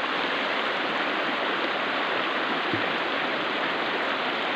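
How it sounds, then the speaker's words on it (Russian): The Bukhtarma river roars in a constant loud broadband rush of fast water, steady and close with no talk over it. "потому что река орет."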